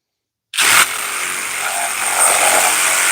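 A Dewalt DCS369B one-hand reciprocating saw starts abruptly and runs with a harsh buzzing rasp, loud and close, continuing steadily for a few seconds after a sharp initial burst.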